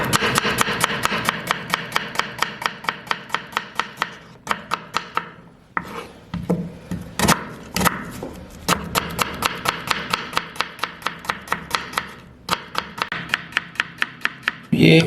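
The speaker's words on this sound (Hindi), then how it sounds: "अब प्याज को भी इसी शेप में बारीक बारीक काटेंगे।" Onion being finely chopped with a knife on a board for curry pakora, a fast, even run of sharp close-up knife taps in bursts separated by short pauses and some scraping.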